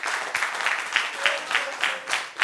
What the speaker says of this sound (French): Applaudissements pour mon frère, s'il vous plaît.